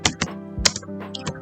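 Typing a command on a computer keyboard, a handful of close, crisp key clicks in an uneven rhythm with short pauses between bursts.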